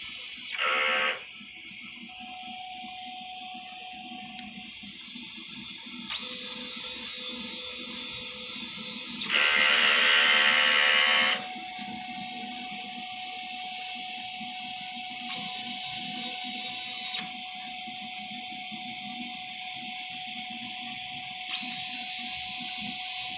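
Printer head capping and wiper cleaning on a TIT General Machine large-format printer, heard as a steady mechanical hum with sustained electronic tones and beeps, plus a louder buzzing burst in the middle, no talking.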